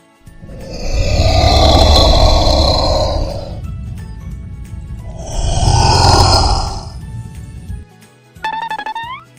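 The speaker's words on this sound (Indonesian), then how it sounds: "Komodo dragon." A Komodo dragon gives two long, loud, rasping hisses or grunting exhalations, each several seconds long, with a brief musical chime at the end.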